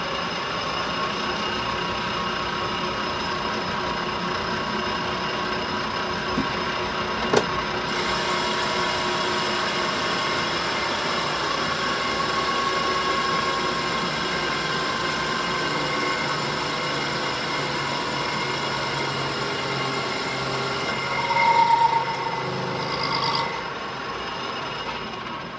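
A lathe cuts a flywheel with an ISCAR carbide insert at full speed, giving a steady high-pitched machining whine and hum with a faint click early on and a slight swell near the end.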